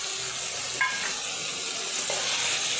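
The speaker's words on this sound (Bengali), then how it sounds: "এবার একটু নেড়ে নেব।" Onion with dry spices, cumin, coriander, turmeric and chili powder, fries in a pan under a steady soft sizzle, with a couple of light scrapes as it is stirred.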